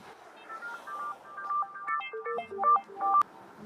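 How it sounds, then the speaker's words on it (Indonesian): A phone rings with a melodic electronic ringtone, a rising and falling run of short tones, close and clear, with no talk over it. "Bentar ya, aku angkat telepon dulu."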